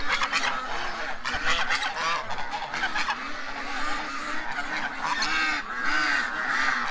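Waterfowl, called ducks, honk and quack in a loud, excited chorus close by, with overlapping calls running continuously for several seconds.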